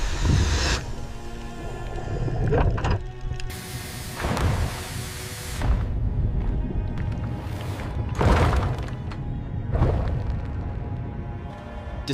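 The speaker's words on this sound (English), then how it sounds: "the team manages to slowly turn the lock" Heavy lock on a sunken ship being slowly turned underwater, producing grinding, creaking mechanical groans in several broad surges over a constant rumbling murk, no speech.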